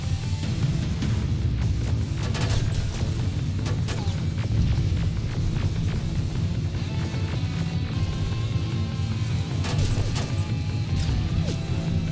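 Grenade blasts and crashing impacts in the first-person shooter Terminator Resistance, loud dense game combat with repeated sharp bangs over a constant low rumble, no talk.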